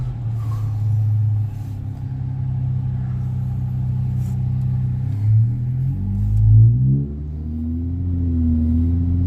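Car engine breathing through MagnaFlow Magnapack exhaust, a steady deep idle rumble that swells into a couple of short throttle blips near the end, close and alone with no talk.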